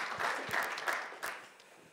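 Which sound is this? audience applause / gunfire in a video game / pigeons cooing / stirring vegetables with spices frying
audience applause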